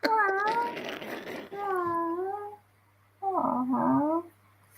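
A voice imitates a cat meowing, producing three drawn-out, wavering meow-like calls. The calls are close and loud, with a rougher, noisier stretch during the first and a short pause before the last.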